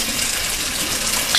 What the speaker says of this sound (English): We're gonna put our hot water in our bottom pan